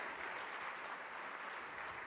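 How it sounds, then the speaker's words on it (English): Sustained audience applause after a speech at an entrepreneurship center launch, an even, dense wash of many hands clapping heard from a distance, quiet and steady throughout without voices. "I'd like to give another round of applause."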